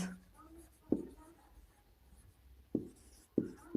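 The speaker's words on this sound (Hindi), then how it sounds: "यहाँ पे लिखोगे आप, ब्लैक से लिखते हैं" Black marker writing on a board in a classroom: a few short, faint squeaky strokes separated by pauses, quiet and close.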